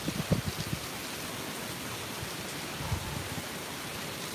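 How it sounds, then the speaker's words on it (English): Steady broadband hiss of rain spray and gusting wind during Hurricane Zeta, a continuous wash of noise with a couple of low buffeting thumps near the start and again near the end. "There's still a lot of rain spray, you see that, and you hear it, I'm sure, and it's still very windy."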